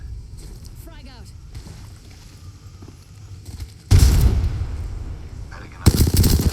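Video game gunfire in a squad battle: two loud, close bursts of rapid shots crack in partway through and again near the end, after a quieter stretch with faint game sounds and low voices.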